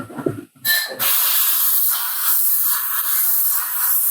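Airbrush hissing steadily as it sprays paint onto a hand-sculpted quarter-scale custom Thor statue, a continuous close, airy spray after a brief start, with a short burst near the beginning.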